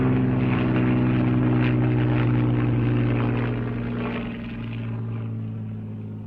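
Hawker Hurricane fighter plane in flight, a steady, loud, droning piston-engine roar with strong low harmonics that holds throughout and eases slightly toward the end.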